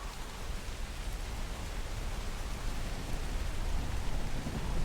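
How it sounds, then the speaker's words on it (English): Continuous rain ambience in the ULTRAKILL soundtrack, a soft, even hiss building very slightly over time, with no talking or distinct drops. "The rain ambiance, I like it."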